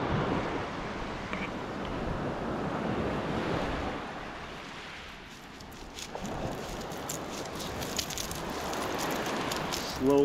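Ocean waves wash and surge onto Navarre Beach, with a broad hiss of surf rising and falling across the scene, close by and moderately loud, mixed with wind buffeting the microphone.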